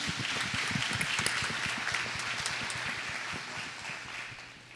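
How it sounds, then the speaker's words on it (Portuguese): A church congregation claps during a Sunday celebration service, a steady, dense wash of many hands sustained throughout, fairly distant and soft, with no voices over it. "Uma salva de palmas para Jesus."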